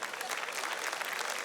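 A church congregation applauding at a worship gathering, dense, bright and steady clapping from a crowd, filling the whole brief moment.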